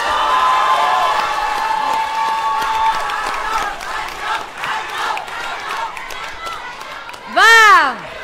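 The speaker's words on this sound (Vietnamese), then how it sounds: "quý vị có thể dành cho cả hai võ sĩ của chúng tôi một tràng pháo tay thật lớn nhé không ạ?" A boxing-event crowd claps and cheers for two fighters, a broad roar of applause and shouting voices, ending with a loud rising whoop or whistle just before the close.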